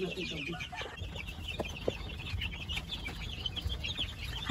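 Dekalb White hens, about six weeks old, cluck and chatter together in a close, busy flock, with a steady stream of overlapping calls over a low rumbling background.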